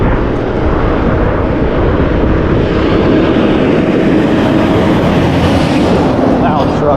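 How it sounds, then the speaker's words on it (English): A loud truck passes on a road near a pedestrian crossing, a heavy, continuous low rumble that stays strong throughout, close and dominant, with no talking. "Loud truck there."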